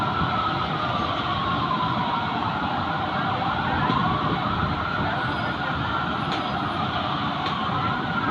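A fire truck siren at a street fire wails continuously in the distance, rising and falling slowly beneath a dense wash of traffic and crowd noise.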